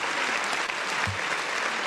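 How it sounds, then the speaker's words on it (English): A round of applause on a live podcast-style show, steady dense clapping throughout with a brief low thump near the middle, fairly close and filling the space. "Can we give him a round of applause?"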